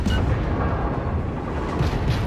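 Naval cannon fire from a World of Warships battle with the cruiser Charleston in Archipelago, a dense rumbling barrage of booms rolling continuously, loud and close with no talk over it.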